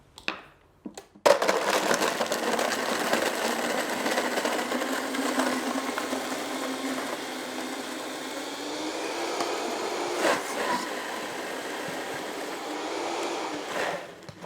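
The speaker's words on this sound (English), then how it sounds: "now I'm going to blend." A blender whirs through a probiotic coconut lemon turmeric lassi, starting after a short clunk and running steadily for over ten seconds with a slight pitch rise, close and alone.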